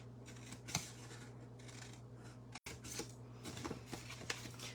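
Scissors snipping through paper along drawn marks, a few close crisp cuts and rustles over a steady low background hum.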